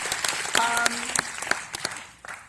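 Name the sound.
audience applause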